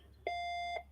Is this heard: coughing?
no